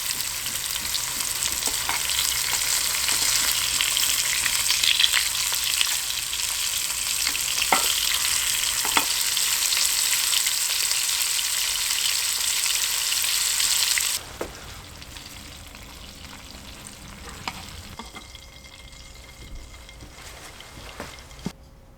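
Burbot fillets, seasoned and cooking fast, fry in hot oil with a loud, steady sizzle and crackle. The sizzle drops sharply to a quieter simmer partway through, with a few scattered pops afterward.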